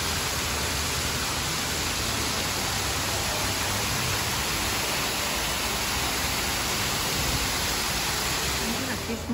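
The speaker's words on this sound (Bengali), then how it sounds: "ঝর্ণার শব্দ।" Waterfall pouring with a dense, unbroken rush of white noise, loud and steady for the whole stretch with no distinct events or voices.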